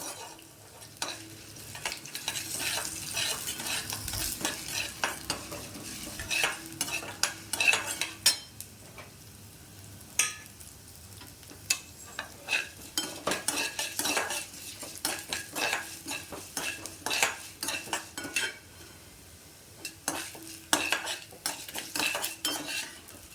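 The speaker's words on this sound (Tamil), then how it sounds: "இப்போ வந்து உளுத்தம்பருப்பு, வரமிளகா போட்டுக்கலாம். நல்லா வதக்கிடலாம். செவக்க வதக்கணும்." Urad dal and dried red chillies frying in a pan, stirred with a metal spoon: steady soft sizzle under frequent scraping clicks and clinks of utensil on the pan, close and fairly loud, with no talking.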